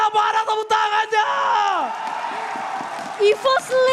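A crowd in an esports arena cheers and whoops during an MPL S11 Mobile Legends match between EVOS and Geek, with voices shouting and tonal game sounds rising and falling under the noise.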